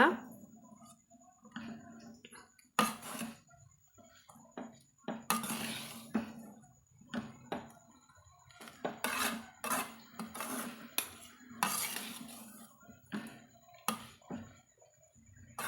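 Vegetable noodles with masala tossed and mixed in a pan, giving repeated metallic scrapes, clinks and soft thuds in an irregular rhythm, close and moderately loud, with a voice talking at times.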